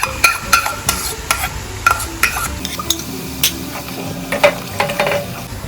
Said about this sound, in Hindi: बस इसको अच्छे से भूनना है हमने